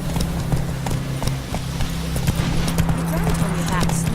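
Roach, a horse in The Witcher 3, walks with a steady clip-clop of hooves close by under a voice, with a faint bit of tack rattle.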